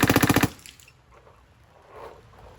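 An airsoft gun fires through a third-party PWR barrel in a rapid burst of about eight close, sharp shots lasting half a second, followed by faint room noise and a soft distant rustle.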